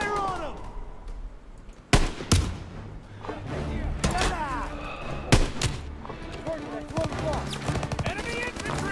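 Gunfire during a battle in Call of Duty: WW2, sharp loud shots and bursts cracking out at irregular intervals, some close and punchy, amid ongoing combat noise with shouting voices in between.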